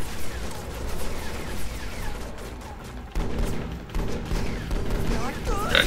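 Gunfire crackles in the video game Final Fantasy XV during an episode featuring Prompto, a dense continuous volley of shots and impacts running throughout, with a voice talking over the battle.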